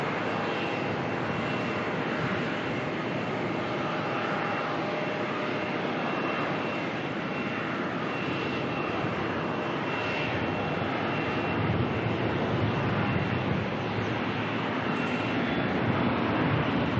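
A Qatar Airways Boeing 777 departs Melbourne Airport with a sustained jet engine roar that holds steady for many seconds and swells slightly louder toward the end, with no talking.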